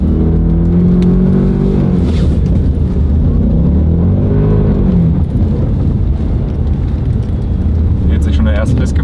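An all-wheel-drive car accelerating on snow during a 0-60 test, a loud close engine rumble that rises in pitch as it revs up, with someone talking over it.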